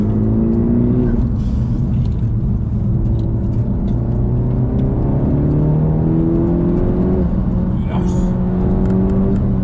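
A Honda Civic FK8 engine revs up toward nearly 7000 rpm, a loud, sustained droning whir whose pitch climbs steadily in repeated sweeps, with a brief exclamation from a person partway through.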